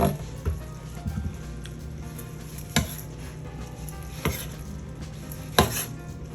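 Plantain slices fry in hot oil with a low continuous sizzle, broken by occasional sharp clacks of a utensil against the pan, close and without talk.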